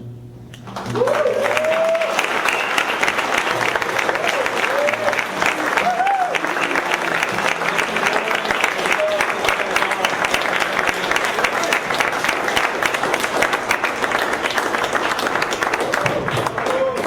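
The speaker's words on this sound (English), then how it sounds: "let's give one more round of applause for Pablo" Sustained, loud crowd applause fills a political rally in Utah supporting Bernie Sanders, with an even wash of many hands clapping and a few scattered cheers and voices rising above it throughout.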